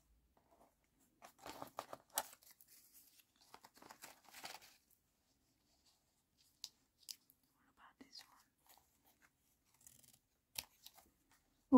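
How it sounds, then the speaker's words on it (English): Scissors cut paper for a junk journal, giving faint, quiet snips and rustles in a short cluster, then a few isolated clicks after a pause, in a very quiet room. "Let's cut that and then cut that"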